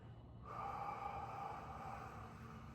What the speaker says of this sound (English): And now exhale it out, and then exhale until there's nothing left in your stomach.